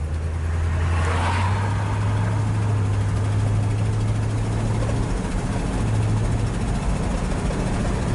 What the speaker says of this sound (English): Got a little exhaust leak